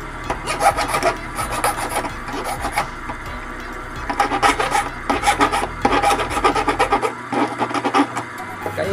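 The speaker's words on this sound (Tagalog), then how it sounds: "gamit na lang po ako ng kikil" A hand file rasps against a freshly duplicated Mazda car key in rapid back-and-forth strokes, loud and close, the scraping bursts coming in steady rhythmic runs with brief pauses.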